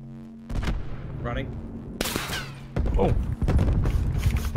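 Gunfire in Call of Duty Black Ops 4 battle royale mode cracks out in several sharp bursts and rapid volleys, loud and close, with game voice chatter and effects between shots.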